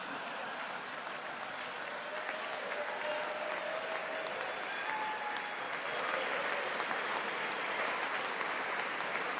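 Audience applause during a presidential address to Congress, a steady dense wash of clapping held at a constant level throughout, with faint murmuring underneath.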